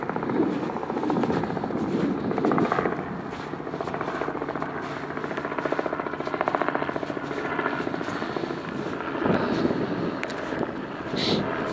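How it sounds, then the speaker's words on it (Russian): Helicopters fly over central Saint Petersburg near a frozen river, making a steady thudding rotor drone with wind noise. The sound rises and falls slightly and stays moderately loud throughout. "здесь рядом МЧС, вертолеты летают."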